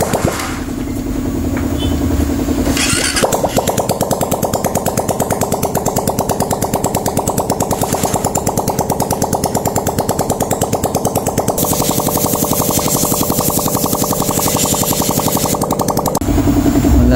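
A refreshed Suzuki Raider 150 Fi motorcycle engine idles loudly and steadily nearby, with a rapid even firing rhythm that briefly rises in tone partway through before settling, alone without talk.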